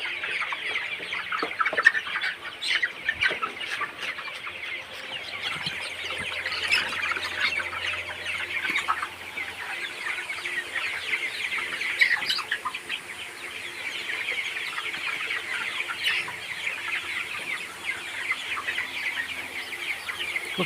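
Colour Bird broiler chickens, about 36 days old, cluck and squawk continuously on a village farm, a dense, busy flock chorus close by that stays fairly even throughout, with scattered louder individual calls.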